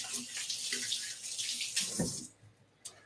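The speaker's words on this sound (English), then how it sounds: "Let me rinse fingers here." Fingers rinsed under a running kitchen tap give a close, hissing stream of water with splashing changes, which then cuts off with a brief final splash.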